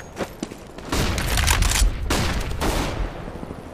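Flashbang and grenade explosions in Counter-Strike on de_dust2, with a few sharp pops and then two heavy, close blasts, each followed by a long, roaring decay.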